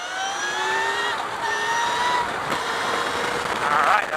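An Empulse TT electric motorcycle accelerates hard at full throttle, its motor whine rising in pitch in repeated sweeps as it gains speed, with wind rushing steadily around it.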